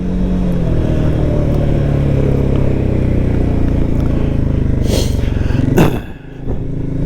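A Can-Am Outlander 700 XT ATV from 2023 runs close by with a steady, throaty engine drone. A couple of brief clatters come near the end as the engine note dips.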